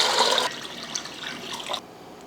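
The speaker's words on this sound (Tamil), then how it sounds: "அரிசி வேக வைக்கிறதுக்கு தண்ணி ஊற்றிடலாம்." Water is poured into a cooking pot for boiling rice, a strong steady rushing splash that eases slightly midway and cuts off near the end.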